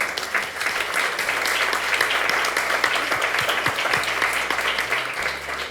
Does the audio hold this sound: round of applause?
yes